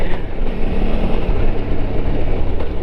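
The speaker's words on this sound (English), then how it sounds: "twisting the throttle and just spinning in gravel" A Suzuki V-Strom motorcycle spins its rear wheel in damp gravel on a dirt road, a loud, steady engine roar blended with continuous gritty churning, close and unbroken.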